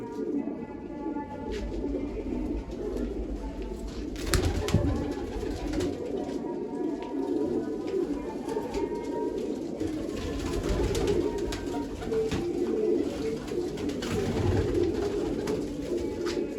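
Steady low cooing from pigeons continues throughout over a constant background hum, with occasional faint voices.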